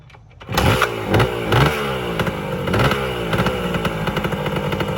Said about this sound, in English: I'll turn the key on, start the bike.